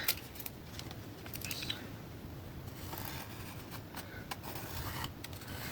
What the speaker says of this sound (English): Now we're going to cut these flaps off right here